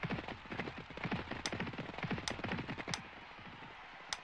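Galloping racehorse hooves in a horse racing video game, a fast, steady drumming of hoofbeats close up with a few sharp clicks scattered over it.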